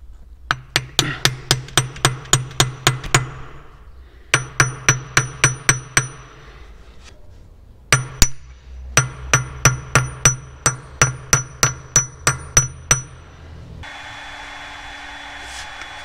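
Metal hammer strikes drive a shaft and bushings into the hitch of a John Deere 2250 tractor, in loud, ringing rapid bursts of about ten blows each, separated by short pauses and ending in a steady hiss.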